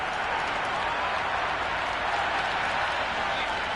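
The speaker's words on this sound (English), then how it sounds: "The crowd are really getting quite raucous." Simulated stadium crowd noise from a PS5 T10 cricket game between Sydney Thunder and Sydney Sixers, a dense, steady roar of cheering and applause that stays loud and even throughout.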